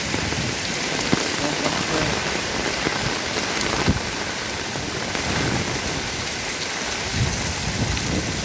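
Heavy rain pours down during storm Noru in the southern region, a dense, loud and continuous roar of water striking surfaces with no break across the whole stretch.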